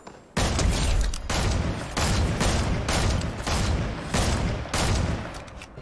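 Gunfire in the Fortnite video game, a series of six loud, close, booming shots spaced roughly evenly about a second apart, each ringing out briefly before the next.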